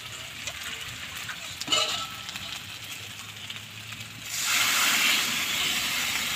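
Water poured into bam fish curry frying in a pan sets off a sudden, loud, steady sizzling hiss that swells partway through and holds, after quieter cooking sounds.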